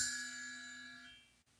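A Mino Bell cymbal rings out alone from a single strike, its bright shimmering tone sustaining and slowly fading over about a second before cutting off.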